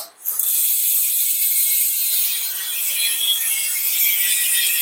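A fast, continuous buzzing click of a bicycle freewheel ratchet spinning on a Pro Wheel square taper crankset, loud and close, steady for several seconds with no voices.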